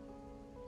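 Rain pours in the Wuthering Waves video game, a brief, quiet, steady patter of drops on surfaces with a soft tonal hum underneath.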